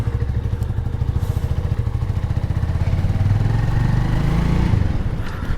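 Motorcycle engine running steadily at the start of a ride on a Bangalore street in the early morning, a continuous close mid-pitched drone with clattering and road rumble and no talk.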